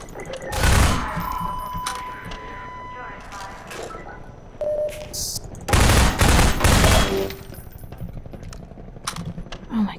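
Gunfire in the game Half-Life 2, with several loud bursts of shots and rapid volleys scattered through the clip, along with thuds and other game effects, while someone talks in between.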